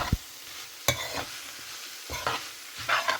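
Spice powder and grated coconut stirred in a pan for a vegetable meal, with several distinct scraping strokes of a spoon against the pan over a low sizzle, close and alone.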